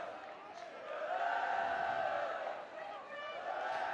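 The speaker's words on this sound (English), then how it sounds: "It's a very healthy crowd in." A large crowd murmurs and calls out at a floodlit women's football match between Arsenal and Manchester City at Borehamwood, a steady far-off roar that swells and dips under the general din.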